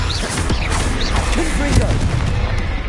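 Spell blasts in the wizarding game Hogwarts Legacy, booming impacts and crackling bursts in quick succession, while a voice shouts spell incantations over them.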